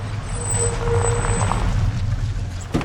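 A car brakes hard to a stop, a low rumbling engine with a high squeal of brakes, followed by a sharp knock at the end, close and loud.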